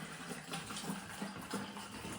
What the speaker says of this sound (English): I fill this up with water.